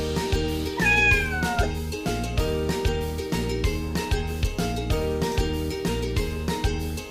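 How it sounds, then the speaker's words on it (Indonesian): A cat meows a couple of times over a steady, rhythmic children's music backing, the meows rising and falling clearly above the beat. "kucing"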